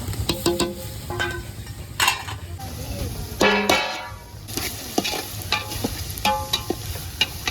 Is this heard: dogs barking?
no